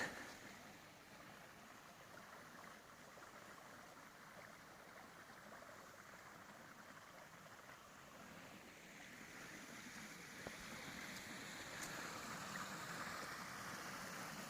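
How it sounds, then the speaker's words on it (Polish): A steady, gentle rush of flowing water from a small stream, constant and fairly soft, swelling slightly toward the end. "Taki strumyczek."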